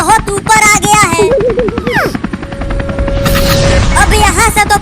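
A cartoon helicopter flies high overhead, its steady rotor chop pulsing through the whole stretch beneath animated character voices and a sustained tone.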